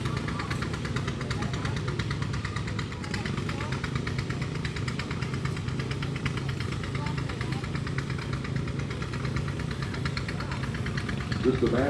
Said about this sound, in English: This is a Massey Ferguson. They don't know what year. It's a Model 7, owned by John and Candace Gibney